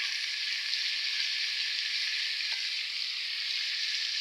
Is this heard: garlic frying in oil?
yes